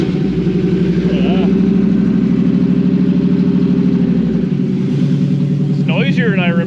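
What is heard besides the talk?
1957 Chevy Bel Air engine cranking and running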